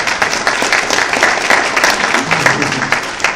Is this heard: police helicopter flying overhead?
no